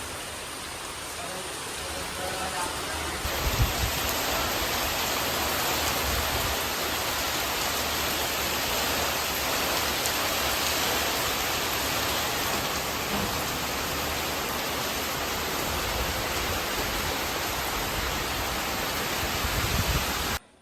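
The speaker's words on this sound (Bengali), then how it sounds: "চারিদিকে মুষলধারে বৃষ্টি হচ্ছে, সাথে ঝড়।" Heavy rain from a Kalbaishakhi storm pours down in a steady, dense roar that continues unbroken for the whole stretch, with occasional low rumbles of wind beneath.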